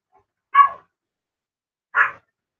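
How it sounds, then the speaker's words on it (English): A dog gives two short, sharp barks about a second and a half apart, fairly close and clear against a silent background. "Damn dog."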